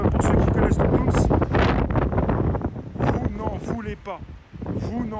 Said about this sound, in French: Un petit peu de vent, ça fait pas de mal.